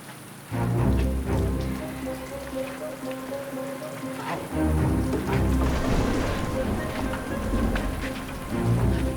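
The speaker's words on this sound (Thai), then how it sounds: "เราเข้าไปหลบฝนข้างในกันเถิด" Steady rain falls throughout, with a low rumble like distant thunder underneath and tonal music layered over it; a Thai TV drama scene.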